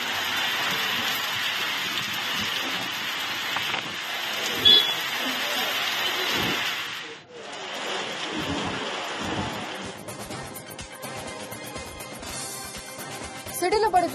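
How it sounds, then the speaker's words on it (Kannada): Heavy rain with thunder during a storm in Karnataka, a dense, loud, continuous downpour with a deep rumble breaking through, and a voice talking over it. "ಗುಡುಗು ಸಿಡಿಲಿನ ಸಹಿತ ಧಾರಾಕಾರ ಮಳೆ ಸುರಿದಿದ್ದು"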